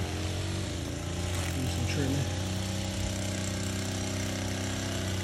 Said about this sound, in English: Got him doing some trimming, man.